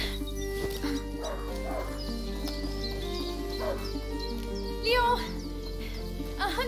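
A hunting dog in the video game A Plague Tale: Innocence gives short barks and whimpering whines over a steady low ambient drone, with a brief louder burst midway.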